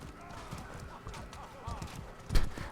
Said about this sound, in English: Fucking just horses jumping into each other.